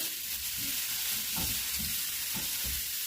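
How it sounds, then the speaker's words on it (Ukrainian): Champignon mushrooms fry in a dry pan with a continuous close sizzle, broken by soft scraping and shuffling as they are stirred now and then. "Періодично перемішую, щоб добре всюди просмажились грибочки."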